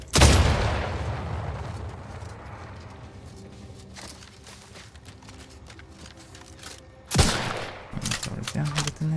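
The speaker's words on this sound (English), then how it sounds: "Yeah, detonated mine." A mine detonates in the video game The Outer Worlds 2 with a sharp loud blast at the start that rumbles and fades, followed by a second heavy burst later as a player talks.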